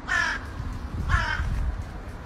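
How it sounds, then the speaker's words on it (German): A raven caws twice, each harsh call about a third of a second long and a second apart, loud and close over a steady low rumble of background noise. "Wieso sitzt da ein Rabe auf seinem Kopf?"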